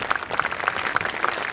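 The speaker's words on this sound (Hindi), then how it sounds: "उनके लिए एक लास्ट में जोरदार तालियां" Audience applause for guests at a wellness conference valedictory function, a dense, steady patter of clapping hands, fairly loud and continuous with no talk over it.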